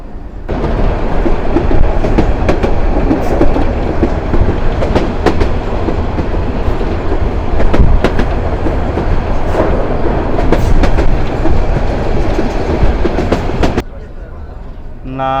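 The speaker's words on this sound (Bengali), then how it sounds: "ট্রেনের ইঞ্জিন খড়খড় করে শব্দ হচ্ছে, গড় গড় করে।" A Burimari commuter train near Aditmari rumbles steadily along the rails, its engine rattling loud and close with continuous clattering wheel noise, then the sound drops away abruptly near the end.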